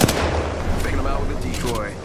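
Rapid gunfire in the video game Apex Legends, a loud burst of shots at the start followed by continued firing and booming effects, with faint voices beneath.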